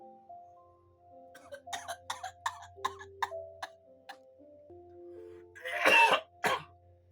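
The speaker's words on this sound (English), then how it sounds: "If you ain't coughing, you ain't smoking." A person coughs close by after smoking, with several harsh coughs toward the end over a quiet background of faint ticking and light tapping.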